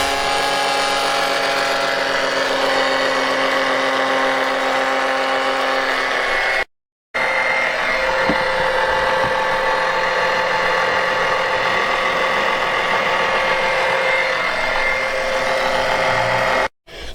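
A Range Rover L322 engine running steadily during an oil flush, a constant mechanical hum and whine with a brief gap partway through.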